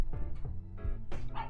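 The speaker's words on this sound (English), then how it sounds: "My dogs are gonna stop barking in a second." Dogs bark indoors in several sharp, close bursts with brief gaps between them, fairly loud and with no speech over them.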